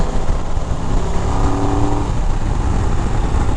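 A 2023 Triumph Tiger 1200 Explorer Rally motorcycle rolls on the throttle, its engine note loud and continuous with a steadily rising drone and wind noise, heard from the rider's position.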